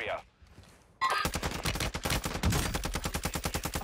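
Rapid automatic gunfire from a brand new weapon in Warzone 2 on Ashika Island, a loud sustained burst of evenly spaced shots after a brief quiet moment.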